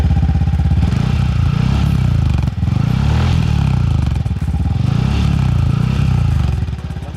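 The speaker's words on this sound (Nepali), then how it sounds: "मेरो बाइकको साउन्ड चाहिँ यस्तो आउँछ" A Yamaha WR 155R motorcycle engine runs steadily and loudly close by beside a garage, a dense continuous drone that barely drops in level, with no talk over it.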